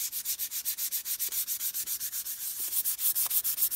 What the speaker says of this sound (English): Now we'll smooth out some of those bevels just with hand sanding.